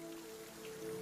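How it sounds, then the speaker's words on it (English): Rain pelting abandoned roadside vehicles in The Last of Us Part I, a brief steady hiss of rainfall with a low tonal hum underneath. "rain pelts abandoned vehicles on the side of the road"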